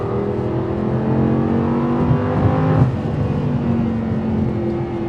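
An Audi R8 LMX V10 engine hums steadily up close, its pitch rising and swelling briefly before settling back to a sustained drone.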